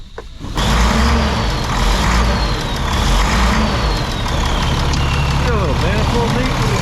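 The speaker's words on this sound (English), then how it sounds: "Little manifold leak." An International truck engine with an exhaust manifold leak idles loudly up close, a steady low rumble with ticking pulses throughout, with voices talking over it.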